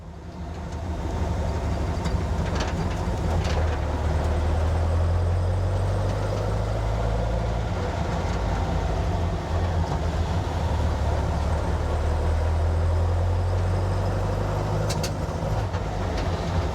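Engine idling steadily at 1200 RPM on Weber 40 IDF dual carburetors, a continuous low rumble with a slight rise in throttle partway through, loud and close with no talking.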